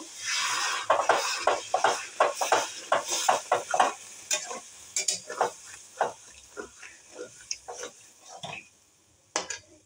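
Bengali raw fish curry stirred in a pan after a little water goes in, with a quick run of rhythmic spoon scrapes and clinks over a soft sizzle, close up and slowing toward the end, no talk.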